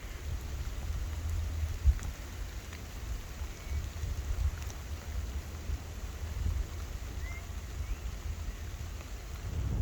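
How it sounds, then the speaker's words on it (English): Rain falls steadily on a windy outing across farmland, making a soft, continuous patter under low gusty rumble, with a single brief knock partway through. "it's really windy and it's raining again"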